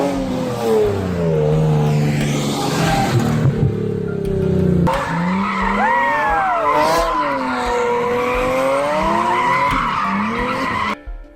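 A Nissan 350Z sports car drifts, its tires squealing loudly in long wavering screeches over a revving engine that rises and falls throughout.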